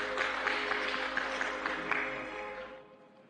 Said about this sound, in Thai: ขอบคุณเหล่าสวทุกท่านนะคะขอเสียงปรบมือให้ด้วยนะคะ